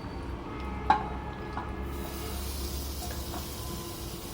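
Paneer shallow frying in a hot pan, a steady low sizzle and hiss running throughout with faint spattering pops and one brief sharp click near the start.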